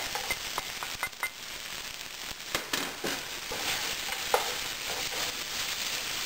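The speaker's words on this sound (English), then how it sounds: "just kind of mix it until the bread's slightly toasted and warm" Caramelized onions, mushrooms, raisins and raisin-bread cubes toast in a hot pan, a low continuous crackling sizzle with scattered spoon clicks and scrapes as the mix is stirred, close-up and without talk.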